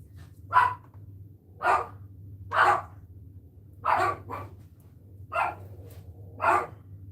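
A dog barks repeatedly, about seven single barks spaced roughly a second apart at moderate distance, over a steady low hum.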